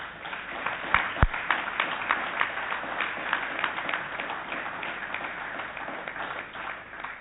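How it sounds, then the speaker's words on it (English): Audience applause at a borough council meeting, a steady wash of many hands clapping in a large chamber, with a couple of sharp louder claps early on and the clapping holding fairly even throughout. "I think they deserve a little bit of applause for that."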